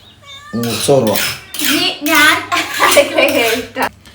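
A house cat meows near fish being cut at home, a few high, drawn-out cries at the start, then voices, including a child's, talk over clinking kitchen sounds.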